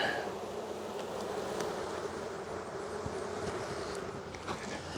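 Honey bees swarm around a hive frame, a dense continuous buzzing of many insects close by, steady throughout with a few faint knocks and no talking.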